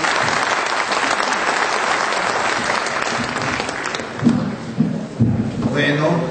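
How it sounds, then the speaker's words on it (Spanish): An audience at a live talk or book presentation claps in steady, dense applause that fills most of the clip before thinning into a few scattered claps as a voice begins speaking near the end. "vamos a darle un aplauso nuevamente a Rodolfo"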